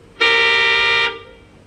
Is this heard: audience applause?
no